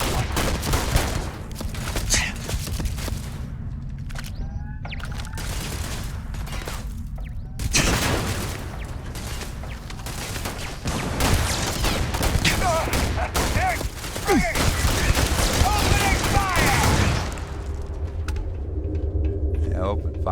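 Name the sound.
gunfire in the video game Starfield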